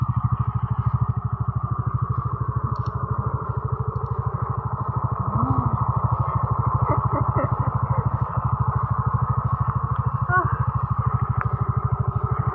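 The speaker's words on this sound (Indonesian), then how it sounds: "Jalanan licin dan tanah liat yang menempel pada ban motor membuat ia kesusahan untuk menaikkan motornya" A motorcycle on a slippery, clay-covered muddy village road labours uphill with a steady, loud, thumping engine drone, close and continuous, with faint voices now and then underneath.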